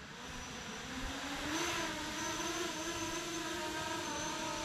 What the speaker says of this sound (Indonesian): Oke, dia nggak terlalu berisik ya suara drone ya.